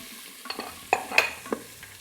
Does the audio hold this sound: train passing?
no